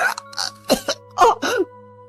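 Several harsh, raspy coughs come in quick uneven bursts, with short pauses between them, close and fairly loud.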